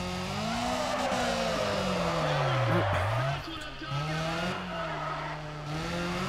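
Tires squeal loudly and continuously as a car drifts sideways under handbrake in the Need For Speed ProStreet racing game, the screech bending in pitch over a roaring engine with someone talking over it.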